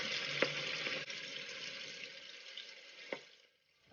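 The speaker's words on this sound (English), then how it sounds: "you're going to leave your wings to fry for about 10 to 12 minutes on the medium heat" Steady sizzling and crackling of chicken wings frying in oil over medium heat, with a couple of sharp pops and clinks, fading out near the end.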